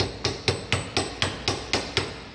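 Eight evenly spaced, sharp metallic hammer taps strike a Dana 30 axle yoke on a Jeep TJ/XJ, close and crisp with about a quarter second between blows and no talking.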